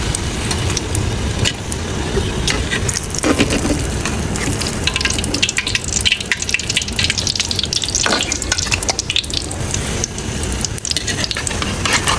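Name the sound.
parathas frying in hot oil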